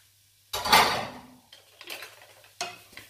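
Green beans are tipped into a pan for vegan pad thai with one loud clattering rush, followed by two shorter scraping, rattling knocks against the pan in an otherwise quiet kitchen.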